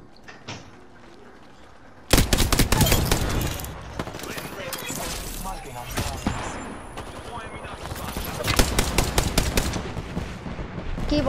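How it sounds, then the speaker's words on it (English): Gunfire in Apex Legends, loud bursts of automatic shots breaking in after a quiet start, with repeated volleys and clattering game effects while players talk over the action. "Keep on shooting at him."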